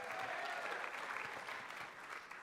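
Applause from an audience at an evening book-tour event, a dense, steady clapping that holds for the whole span and eases slightly toward the end.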